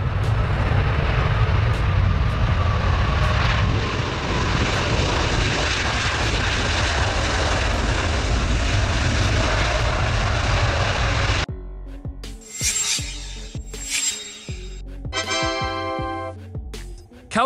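Engines of an Airbus Beluga transport aircraft roar loudly and steadily for about eleven seconds as a broad, close rumble, then cut to a sequence of scattered mechanical clicks and whirring bursts.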